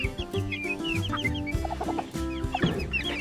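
Several chickens cluck and chatter close by in a rotational grazing setup, with busy overlapping calls and a louder burst near the end.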